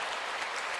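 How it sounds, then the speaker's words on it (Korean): Congregation applause during a church sermon, a brief burst of dense clapping that stays steady and fairly close throughout. "이럴 때는 박수를 해야 되는 거야"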